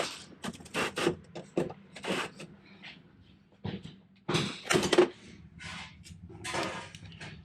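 Clutch bolts snugged down with a small 1/4 inch ratchet during a Hinson clutch basket installation, a series of short scraping clicks and bursts coming in uneven clusters, close up, with no talk.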